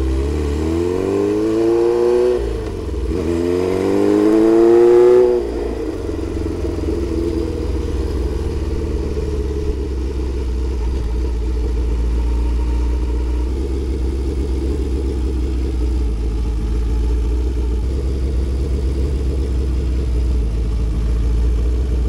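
A Honda CB750 cafe racer motorcycle engine revs up with a rising pitch for a few seconds, then settles into a loud, steady, rumbling idle close by.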